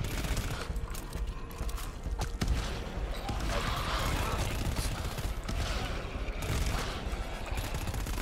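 Shotgun blasts in the co-op horror shooter GTFO crackle through a dense, continuous barrage of gunfire and mechanical clatter, with a sharp louder report mid-way; voices talk over the chaos.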